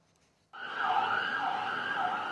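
An air-raid alert siren in Tel Aviv starts suddenly and wails steadily, its pitch rising and falling in slow sweeps, loud and continuous with no talking.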